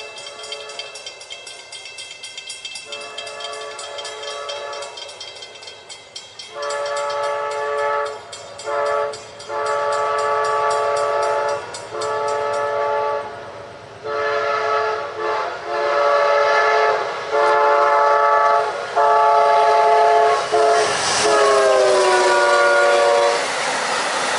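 A northbound Amtrak train rumbles past up close while its horn sounds in a series of long loud blasts, wheels clattering underneath.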